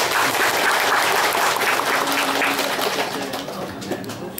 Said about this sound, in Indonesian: Serina, tepuk tangan buat dia.